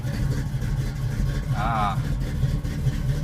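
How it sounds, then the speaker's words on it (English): The carbureted engine of a 1974 Chevrolet Camaro LT idles steadily on a first start of the day, with a low, rumbling drone, close by, while a voice briefly cuts in over it. "let's get this car started"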